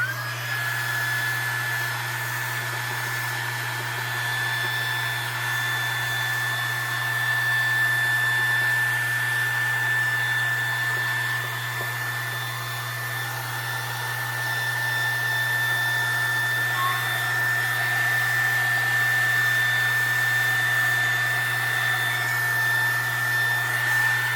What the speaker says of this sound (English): Let me heat gun this real quick.